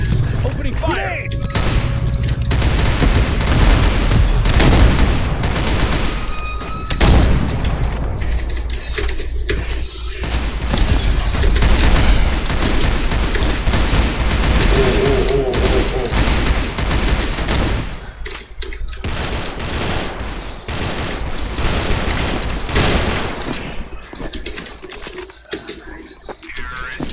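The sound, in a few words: gunfire in a video game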